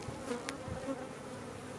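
Honeybees at an open hive, with brood frames lifted out, give off a faint, steady buzzing with a few slightly louder passes near the microphone and no voices.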